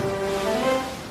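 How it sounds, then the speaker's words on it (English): Ocean waves wash and roll in a brief, steady surge of surf with no other sounds. "The box floated on the waves."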